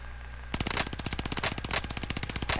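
Rapid automatic gunfire in the video game Warzone, a sudden loud burst of closely spaced shots that keeps rattling almost without pause for two seconds after a brief quiet lead-in.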